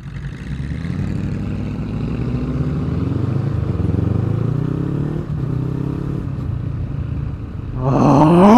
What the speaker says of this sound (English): I really want to see this Mustang. Come on, audio. Hear that burble.